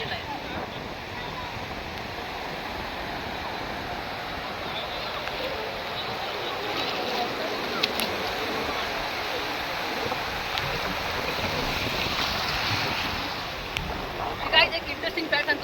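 Sea waves roll in at Guhagar beach, a steady broad wash of surf heard close and continuous for a long stretch, with wind in the microphone and a few brief bumps near the end.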